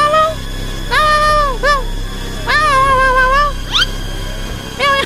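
A cat meows several times in the Cartoon Cat survival horror game: drawn-out rising and falling calls, some short and some long, over a low background hum.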